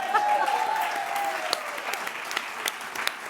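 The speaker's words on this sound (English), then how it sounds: "That deserves a round of applause" A seated audience at a women's festival panel breaks into applause, a dense patter of many hands that builds and carries on steadily, with a faint voice trailing off at the start.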